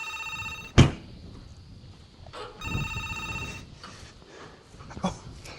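A telephone rings in two bursts of electronic ringing, separated by a short gap, with a sharp thud just before the first ring and some faint shuffling and knocking around it.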